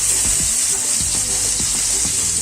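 Onion frying in hot oil with cinnamon, bay leaf and ajwain, a loud, close, continuous hiss broken by a few soft rhythmic stirring strokes.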